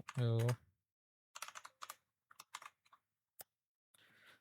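Short bursts of clicking keys on a computer keyboard while a design is typed up, close and crisp, following a brief hummed voice at the start.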